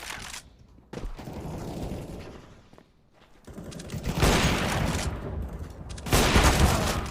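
In a video game, AK rifle fire comes in several loud bursts separated by quieter gaps, the last bursts the heaviest.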